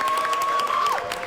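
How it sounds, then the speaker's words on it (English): Audience applause and cheering from a gathered crowd, a steady wash of clapping that holds for about a second before easing off, with a faint tone running through it. "Everyone applaud Shannon for her great tour guide work."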